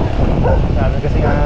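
A frightened dog lets out short yips, barks and whimpers close by during an outing, brief sounds mixed into a loud, busy background.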